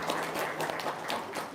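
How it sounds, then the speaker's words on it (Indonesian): Dense, steady clapping from an audience at a testimonial talk event in Indonesia, a short burst of many hands applauding fairly close and evenly throughout. "tepuk tangan dong"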